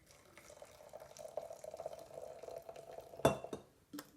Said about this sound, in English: Miss Debbie has some hot water here and I'm going to pour it into my mason jar.